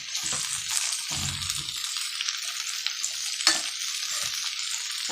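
Tomatoes, six medium ones, sizzle and hiss with onion and garlic in a pan for a chutney, with a steady frying crackle and a few low scraping stirs, close and continuous.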